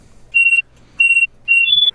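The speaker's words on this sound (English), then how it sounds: "There's an alarm going off on your comm." Three bursts of a steady electronic beep from a sci-fi communicator alarm, each about a quarter second long and evenly spaced, sounding alone over a faint low hum.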